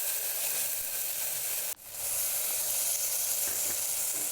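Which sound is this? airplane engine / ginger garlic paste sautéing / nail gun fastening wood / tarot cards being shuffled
ginger garlic paste sautéing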